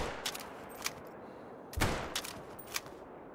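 A single .22-250 rifle shot fired at a raccoon dog in a hunting game, a sharp broadband crack with a short tail, set among a few fainter distant pops in a quiet outdoor scene.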